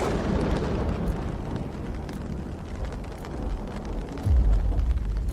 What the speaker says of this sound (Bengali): আর আকাশে বিদ্যুৎ চমকাচ্ছে।